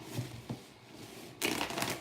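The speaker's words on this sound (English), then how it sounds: "One more shuffle." Tarot cards for a love reading being shuffled by hand, a couple of soft riffles followed by a louder, longer burst of card flutter, close and alone.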